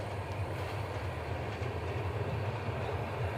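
An AC passenger train rolls past nearby, a steady loud rumble with low rhythmic wheel thumping and a broad airy roar holding constant throughout, with no voices.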